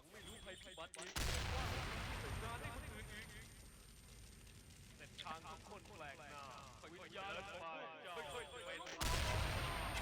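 A Graffiti Spray flamethrower fires in the shooter game XSHOT during a solo run: a steady, dense roar of rapid bursts that swells and dips over several seconds, with a voice talking faintly underneath.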